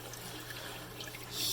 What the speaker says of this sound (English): I really like the way the water's flowing.